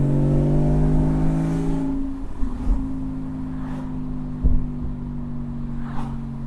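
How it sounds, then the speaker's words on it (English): A car exhaust fitted with high-flow 200-cell headers rumbles close by at around 2,800 RPM, swelling louder in a few short bursts as the throttle opens, then settling back to a steady drone. "Every time you hear the exhaust get louder, that's me giving it gas."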